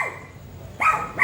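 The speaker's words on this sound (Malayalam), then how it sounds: "ആര് വന്നാലും കുരയ്ക്കും" A dog barks twice, short sharp barks spaced apart, close by with a quiet pause between them.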